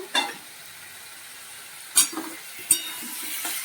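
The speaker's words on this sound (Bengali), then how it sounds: "আলুগুলো এর সঙ্গে ভেজে নেবো।" Potatoes frying in a pan with onion and tomato, a faint steady sizzle broken by a few sharp stirring scrapes and clatters at intervals.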